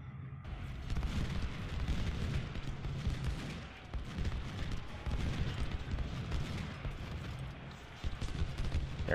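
Battle din in the Civil War strategy game Ultimate General: Civil War at Antietam, with artillery fire as heavy booms over a constant low rumble of distant cannon and musketry that swells and dips.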